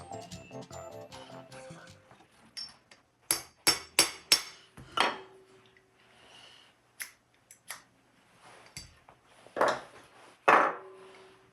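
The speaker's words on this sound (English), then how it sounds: "with just a little friendly tap there, the cotter pin is in" A hammer taps a cotter pin into a gun's firing mechanism: a series of sharp, isolated metallic knocks spaced irregularly, with a few quick clusters, close and fairly quiet with no talk.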